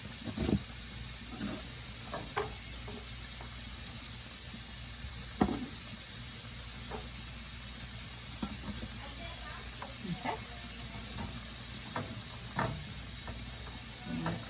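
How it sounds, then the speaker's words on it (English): Chopped onions sweating in a pan as the base for a creamy chicken soup, a soft, steady sizzle with scattered light clicks and taps of a utensil, fairly quiet and close. "The best thing to do with onions are to sweat them down."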